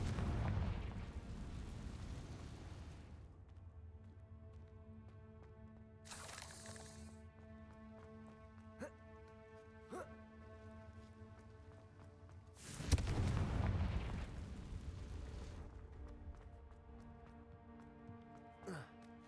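Confringo fire spell blasts in the Hogwarts Legacy video game, two bursty explosions a few seconds apart over sustained game music with a low rumbling bed.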